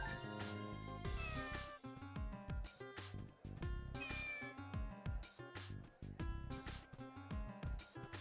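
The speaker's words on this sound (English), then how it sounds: "It's also a great game just because you can pet the cats." Cartoonish cats meow repeatedly in the video game Phantasy Star Zero, quick high calls in close succession layered over busy game music, with no talk.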